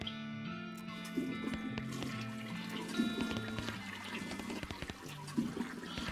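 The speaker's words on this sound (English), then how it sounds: "We got a bunch of experience for flushing the toilets." Toilet flush from the West of Loathing video game, a rushing, pouring water sound mixed with layered game music, steady and moderately loud throughout.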